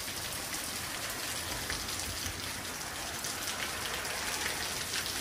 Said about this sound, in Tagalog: Maganda naman yung sound ng ulan.